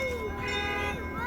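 A bell rings at the 2023 Amherst Railway Society train show, its sustained ringing tones sounding steadily through the whole moment amid crowd chatter and voices.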